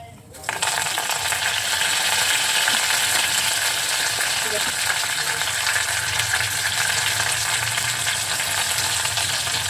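Curry leaves hit hot oil for besan chutney and burst into a loud, crackling sizzle that begins abruptly and keeps spitting steadily, close up, with no voices over it.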